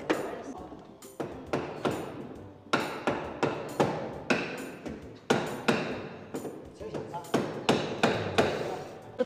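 Someone flattens a metal gate during installation with steady, ringing hammer blows, about twenty strikes in quick rhythm with short pauses, loud and close, while voices talk in the background.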